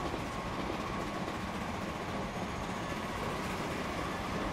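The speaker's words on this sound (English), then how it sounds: "I think that was the A4 passing there." The A4 steam locomotive runs past in the railway game Transport Fever, a steady, dense rolling rumble with faint wheel clatter that holds at an even loudness throughout, with no voices.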